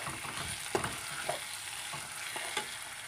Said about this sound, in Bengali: আস্তে আস্তে নাড়তে থাকবো